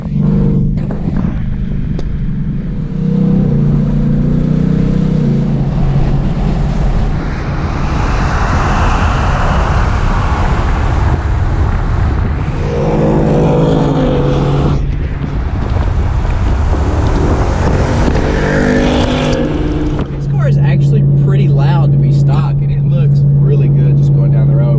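A stock 2018 Ford Mustang Premium's engine and exhaust roar loudly from inside the moving car on a test drive, rising and falling as it revs and shifts, with wind noise throughout.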